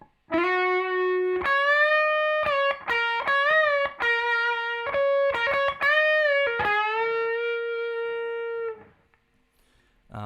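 Distorted electric guitar plays the first half of the guitar 2 solo, sustained lead notes with bends and quick picked runs, loud and continuous before cutting out near the end.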